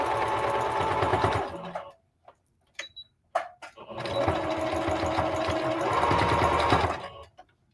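A sewing machine stitches around a pocket on palazzo pants made from a skirt, running steadily for about two seconds, pausing with a few clicks and knocks, then running again for roughly three and a half seconds, close and loud.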